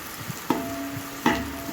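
Onions and green chilies frying in hot oil, with a steady sizzle broken by two sharp bursts of crackling as pieces hit the pan or get stirred, close and moderately loud.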